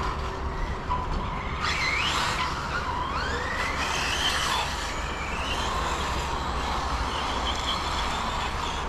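A Tekno EB48 2.2 RC buggy squeals and skids on a wet, slippery outdoor track, with high rising and falling tyre chirps over a steady motor whine and background noise.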